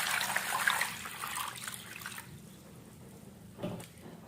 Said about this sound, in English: Just transfer it into the pot like this and add some water that will be able to